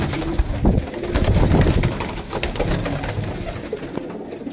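Pigeons coo in a loft in Faisalabad, low throaty calls overlapping in a dense, close flock amid constant rustling and background bustle.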